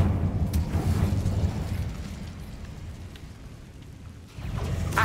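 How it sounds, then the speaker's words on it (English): A spell explosion in Hogwarts Legacy booms as a loud, low rumbling blast, fades to a dull roar, then swells again, with no talking. "就算不射咒，光看这个爆炸，这就可以把人家炸死了"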